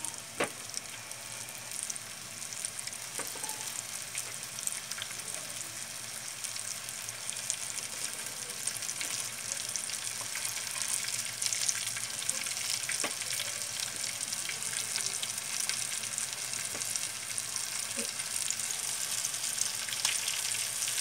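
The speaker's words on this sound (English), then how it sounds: "the oil is already set, so we can already start putting the chicken" Steady crackling sizzle of cornstarch-coated chicken deep frying in hot oil, constant and moderately close, with occasional soft pops throughout and no talking.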